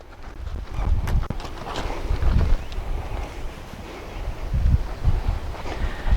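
A yearling horse moving its feet during a buckle demo, with scattered thumps and clip-clops of hooves over ground under steady wind noise outdoors, no talking.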